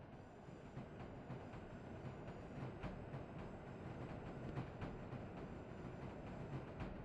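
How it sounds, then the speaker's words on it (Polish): A train rolls into Sosnowiec Główny station in the SimRail railway simulator, a steady, loud rumble of wheels on track with faint rhythmic clicks throughout and no talking. "bo już z Brynowa jedzie pociąg"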